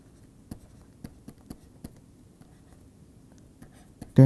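Chalk or marker on a lecture-room board tapping out a series of short, sharp strokes at irregular intervals, faint and close against quiet room tone, ending with a sudden louder burst.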